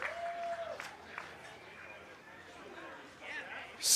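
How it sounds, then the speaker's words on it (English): Crowd applause and cheering at a championship college summer-league baseball game between the Alaska Goldpanners and Grand Forks Slag Dusters after a run scores, a broad, distant wash of clapping with a louder swell at the end. "The crowd is delighted."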